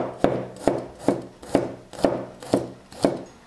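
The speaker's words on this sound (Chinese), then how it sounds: "3瓣蒜切片" A knife slicing three garlic cloves on a cutting board in a home kitchen, seven crisp, evenly spaced chops with a short ringing thud after each, close and clear with no talking.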